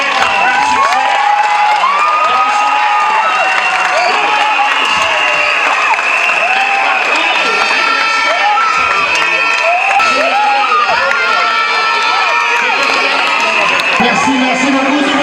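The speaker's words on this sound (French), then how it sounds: "Merci beaucoup, c'est bon applaudissement." A loud, dense crowd of children and adults cheers, shouts and applauds without pause at a school results ceremony announcing finalists, with primary pupils among them, the noise close and filling the whole stretch.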